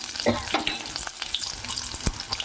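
Ingredients for a tamarind chutney being stirred in a frying pan, with a soft sizzle under a few quick scraping and clinking strokes, close and fairly quiet, with no speech.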